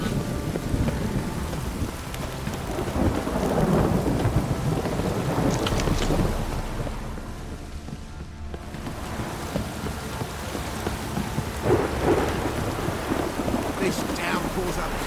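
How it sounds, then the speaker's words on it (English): Heavy rain pours down in The Witcher 3, a dense, steady hiss of water with deep rolling thunder rumbling through it, loud and continuous for the whole stretch. "This downpour's a bastard, it is."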